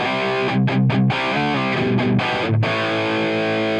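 Electric guitar played through the Helix Stadium German Xtra Blue amp preset, loud distorted chords and notes struck in short phrases with a sustained, saturated ring between hits.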